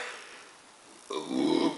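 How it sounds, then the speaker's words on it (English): After a sip of Mikkeller Texas Ranger chili barrel-aged beer, a short, close, throaty burp erupts out of quiet, low and gurgling for about a second. "you can really feel the chili burning when you burp"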